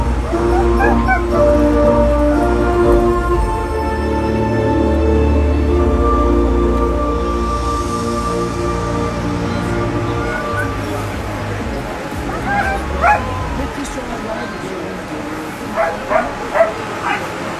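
Sled dogs at the start of a sled-dog race stage in the mountains bark, yip, whine and howl eagerly in a loud, continuous chorus, while a commentator talks over them.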